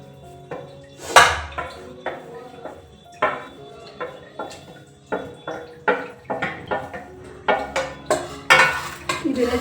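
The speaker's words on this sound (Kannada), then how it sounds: "ಚೆನ್ನಾಗಿ ಮಿಕ್ಸ್ ಮಾಡ್ತೀನಿ" Vermicelli is mixed with tangy gojju inside a pressure cooker, a series of close metallic clanks and scrapes from a spoon against the pot in an uneven rhythm, with faint sizzling underneath.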